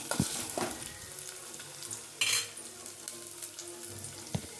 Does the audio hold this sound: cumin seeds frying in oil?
yes